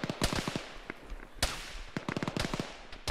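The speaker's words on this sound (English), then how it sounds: "the, town over there shooting again" Faint, distant gunfire from a far-off town in a video game, popping in scattered quick bursts and single cracks with no talk over it.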